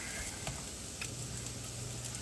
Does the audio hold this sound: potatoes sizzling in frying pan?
yes